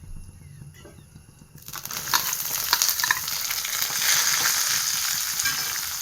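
Dried chillies, curry leaves and garlic hit hot oil in a Kerala kitchen, a quiet pan suddenly bursting into a loud, steady crackling sizzle that keeps going to the end, with no talking.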